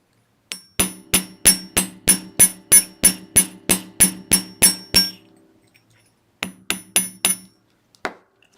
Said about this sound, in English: Hammer it, blend it a little bit.